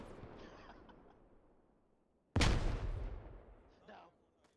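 In a military shooter video game, a single loud explosion bursts after a quieter stretch of distant rumbling, then fades with a trailing rumble and a faint later pop.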